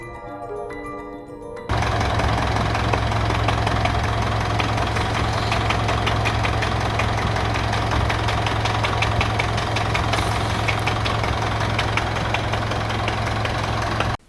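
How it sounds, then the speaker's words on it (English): A Mitsubishi Triton pickup's old engine with a blown head gasket idles roughly, starting after a short pause into a loud, steady low rumble with a knocking chug, close and without talk. "that was that Gray Triton's old engine. And yep, it was choo-chooing through the radiator"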